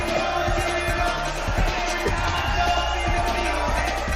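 A crowd cheers and murmurs in a large room, a steady roar of voices with scattered claps and thumps, moderately loud and close, with speech mixed in.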